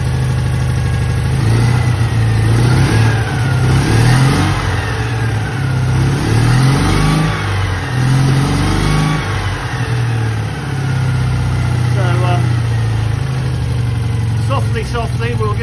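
A Citroën Dyane car engine running in short bursts and revving, a steady mid-pitched drone close by with rising revs, and a voice talking over it.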